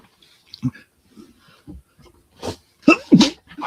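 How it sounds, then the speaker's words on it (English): A few soft breaths and snorts build up to a sharp sneeze near the end, close by, with no talking. "I got to mute for a second here while I sneeze."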